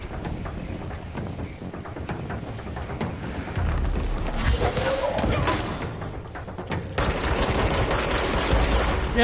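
Gunfire against an enemy in the video game Control, coming as irregular bursts of shots and thuds that grow louder partway through, with heavy impacts mixed in.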